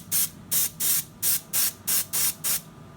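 Eight short, evenly spaced bursts of spray paint hiss close up as a model kit's hands are coated over the glue spots, each puff crisp and separated by brief quiet.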